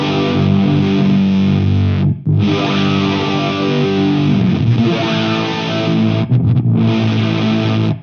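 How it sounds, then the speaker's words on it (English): Guitar run through an Eventide Knife Drop pedal, the expression pedal sweeping the first preset: a loud, dense, distorted and heavily effected tone sustained throughout, with two short drop-outs mid-way and near the end. "Let's have a listen to the expression pedal on that first preset."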